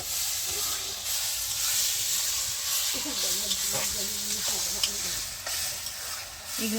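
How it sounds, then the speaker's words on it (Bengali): Fish frying in a pan at a home cookout, a steady loud sizzle and hiss, with faint voices in the background. "এদিকে মাংস আর এদিকে হচ্ছে মাছ ভাজা"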